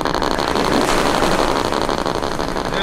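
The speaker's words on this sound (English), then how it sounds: "as you can hear, it's got a little bit of a throaty sound to it" A sound module in a radio-controlled model of the warship HMCS Huron plays a throaty idling engine, a steady, loud, buzzing drone that holds evenly for a few seconds with no voices.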